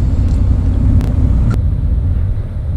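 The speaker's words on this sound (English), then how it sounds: "we've been driving for a while now, going north on A1A" Car interior rumble while driving north on A1A along Florida's Treasure Coast, a loud, steady low engine and road drone with a couple of brief clicks, no one speaking.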